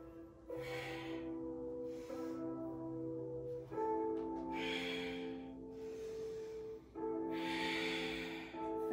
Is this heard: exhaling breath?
yes